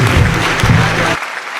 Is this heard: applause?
yes